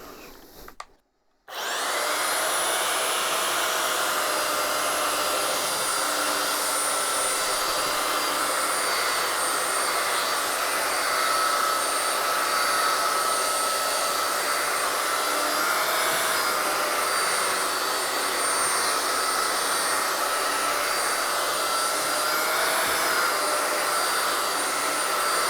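Makita M9400 belt sander fitted with fresh coarse sandpaper, switched on after a brief pause and then running on wood as a loud, steady high-pitched whine and roar that holds for the rest of the clip.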